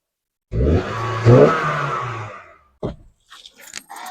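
A car spinning donuts: an engine roars for about two seconds with a rising rev and tire noise, then cuts off, followed by a few short, fainter bursts.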